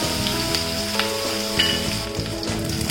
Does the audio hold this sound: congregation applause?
no